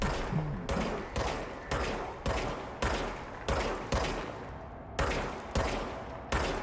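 Gunfire from a weapon in the video game Control, a rapid string of about a dozen close, loud shots in an uneven rhythm, each burst sharp and followed by a brief ringing decay.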